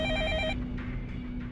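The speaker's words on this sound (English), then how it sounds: "Telephone rings." An electronic telephone ring in the Fate/Stay Night visual novel game sounds as a short, bright warbling burst that stops after about half a second, leaving a low steady hum and faint background tones.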